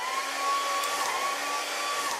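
A hair dryer blows in the modded Lethal Company video game, a steady close whoosh with a thin whine that holds evenly for about two seconds, with no talking over it.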